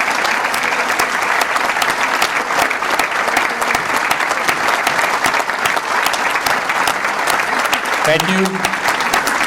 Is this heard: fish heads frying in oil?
no